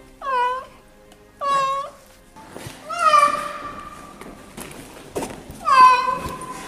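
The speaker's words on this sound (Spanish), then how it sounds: "La imagen que se logra observar en el video de este sonido es un gato que está pidiendo" A begging cat meows repeatedly, with two clear separate calls followed by longer drawn-out meows, loud and close, with some background noise between the calls.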